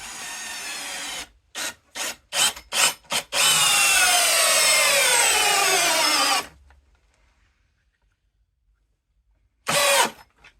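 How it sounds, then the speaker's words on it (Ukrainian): A Dnipro-M CD-201HBC cordless screwdriver drives a screw into a wooden board at an angle, starting in several short loud bursts, then one sustained whine as the screw runs in, a pause of silence, and a final brief burst. "Можна спробувати ще загнати його, не знаю, наприклад, вниз, в доску в інший брус під кутом."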